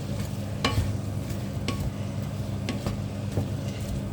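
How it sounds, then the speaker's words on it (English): Onions frying in a pan for pumpkin risotto, a steady close sizzle with soft crackling and a few sharper scraping stirs at irregular intervals. "And the onions are starting to fry."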